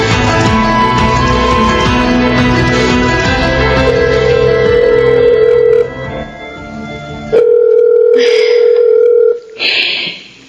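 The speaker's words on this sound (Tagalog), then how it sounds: "Sana sagutin na ni Jeric tong tawag ko" A telephone call rings out while the caller waits for someone to answer. Steady tones sound loudly at first with a musical drone beneath, then give way to separate repeating ring tones.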